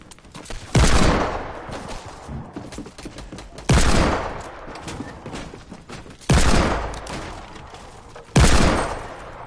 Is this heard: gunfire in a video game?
yes